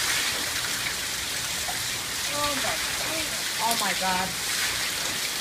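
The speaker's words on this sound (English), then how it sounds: "It hasn't rained like this." Heavy rain pours steadily as a broad, constant hiss close by, with people talking and exclaiming over it.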